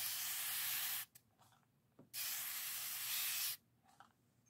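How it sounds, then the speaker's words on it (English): Two long hissing bursts from a spray bottle misting water onto watercolor paint, each lasting about a second, separated by a brief pause with quiet handling noise. "let's give these a nice spray."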